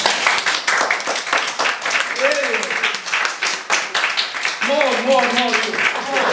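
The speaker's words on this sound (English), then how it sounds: "Clap your hand for him." Audience claps in scattered, uneven bursts right after an announcer calls for applause, with a voice carrying over the clapping at moments.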